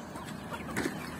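Chickens cluck softly nearby over a steady background hum, a few short throaty calls in quick succession.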